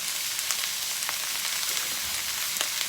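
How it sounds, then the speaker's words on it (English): Cabbage crackling and sizzling in a hot pan for an Indian meal, a steady dense frying hiss with scattered sharp pops throughout, close and fairly loud, no talking. "You can hear the cabbage crackling and sizzling, so you know it needs to be seasoned."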